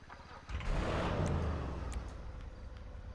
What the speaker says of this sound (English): We'll start it up here.